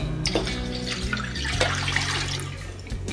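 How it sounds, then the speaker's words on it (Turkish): Water poured into a pickle brine of vinegar, lemon salt and rock salt, a steady splashing gush with small gurgles and drips, close and continuous without talk. "Şimdi ben bunun içerisine 1 litre su ilave edeceğim."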